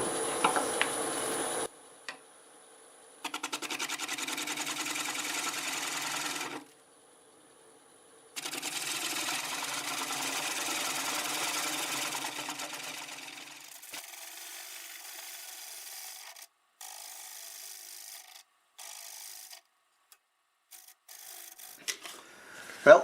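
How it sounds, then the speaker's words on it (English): Oak turns on a wood lathe while a 1/2-inch bowl gouge cuts, giving long steady scraping runs broken by pauses and shorter bursts near the end, close and fairly quiet with no talk. "I'm going to use a 1/2-inch bowl gouge"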